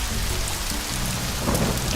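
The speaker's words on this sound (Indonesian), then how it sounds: "langit menjadi mendung dan angin bertiup, serta hujan lebat mulai turun" Heavy rain pours down with gusting wind as a storm breaks, a steady, loud and dense wash of falling water with no voices.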